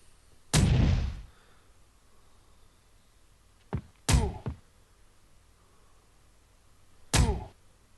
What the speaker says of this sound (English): at least it didn't waste all 3 shots against the wall